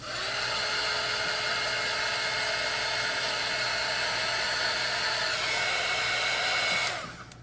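A loud, steady high-pitched whir of a blow dryer drying paint on canvas, running continuously for several seconds, then cutting off near the end.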